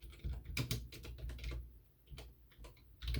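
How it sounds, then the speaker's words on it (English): One-handed typing on a computer keyboard, a run of close, uneven key clicks and taps with a short pause partway through. "Please excuse my one-handed typing here."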